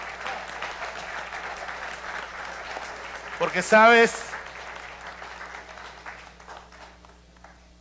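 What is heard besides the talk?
church congregation applauding the elderly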